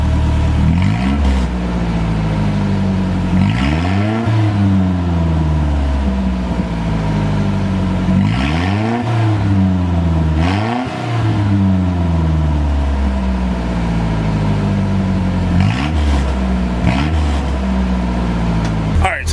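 A lowered Nissan 720 pickup with its muffler deleted revs repeatedly, loud and close, with throaty rising-and-falling engine sweeps over a steady idle throughout.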